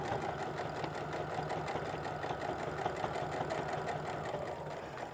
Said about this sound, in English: feeds nice and evenly through my sewing machine